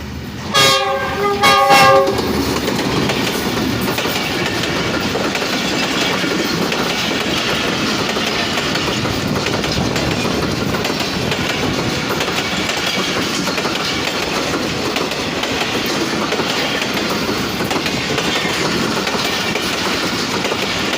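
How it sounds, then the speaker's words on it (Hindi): The Allama Iqbal Express, hauled by a GEU-20 diesel locomotive, sounds its horn in a few loud blasts at the start, then rolls past steadily with continuous rumbling and clattering wheels for about twenty seconds. "तो आइए 9 अप अल्लामा इकबाल एक्सप्रेस को GU20 के साथ पास होते हुए देखते हैं।"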